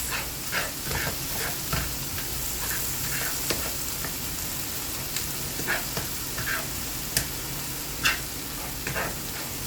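Food is mixed and mashed in a pan for a side dish, with irregular scraping and tapping strokes of a utensil over a soft, continuous sizzle, close and fairly loud.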